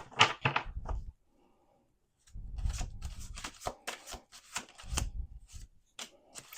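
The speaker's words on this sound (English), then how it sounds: "Okay, 6 minutes in and we only have 1 card on the table." Tarot cards being shuffled by hand, a burst of papery riffling and rubbing followed by a pause, then repeated shuffling strokes and card slaps at close range with no talking.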